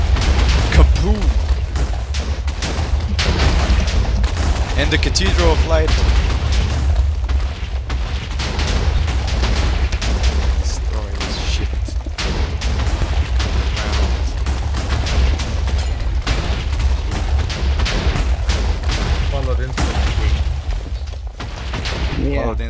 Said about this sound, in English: Continue the chain reaction of the explosions